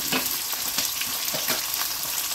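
A spoon stirs ginger garlic paste in a frying pan with cinnamon pieces, giving soft scraping strokes at a steady rhythm over a constant close sizzle of hot oil.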